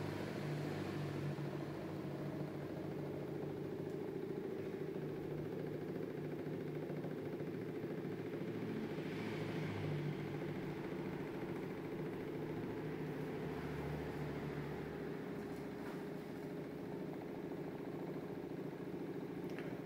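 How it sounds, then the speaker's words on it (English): A Newman motor's rotor spins at 7.5 volts, fed by an isolated DC-DC converter, giving a steady, continuous close-up mechanical hum and whir with a low tonal drone, alone and unchanging throughout. "The rotor is starting to catch up the RPM."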